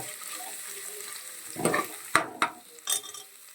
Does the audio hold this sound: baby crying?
no